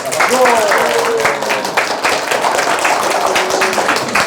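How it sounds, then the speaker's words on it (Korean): Audience at a lecture on safe food and fermentation applauding loudly and steadily in an indoor hall, with voices and calls mixed into the continuous clapping. "큰 박수와 환호로 맞이해 주시기 바랍니다."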